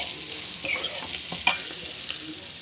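Onions, ginger, garlic and curry leaves frying in oil, an even crackling sizzle with a few sharp spatters and stirring scrapes, close and alone without talk.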